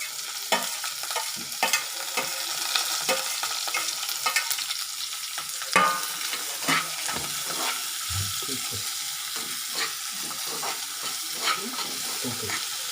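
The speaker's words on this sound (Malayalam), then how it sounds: "അതിനകത്തേക്ക് നമ്മൾ സവാള കൂടി ഇട്ട് മൂപ്പിച്ചെടുക്കുന്നതാണ്" Sliced onions frying in hot oil with garlic and green chillies, a steady crackling sizzle with intermittent spoon scrapes and stirring knocks throughout, close and without talk.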